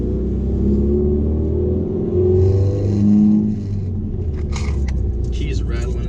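A modified Subaru STI engine rumbles loudly and revs up, a deep growl rising and falling, with people talking over it during a drive.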